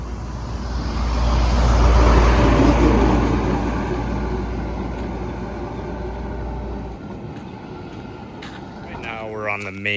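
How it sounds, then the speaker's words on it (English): Traffic of cars and taxis on a busy main paved road, a loud passing vehicle swelling close by and then fading into a steady rumble of passing traffic. "there's still a lot of like cars and taxis and things going back and forth"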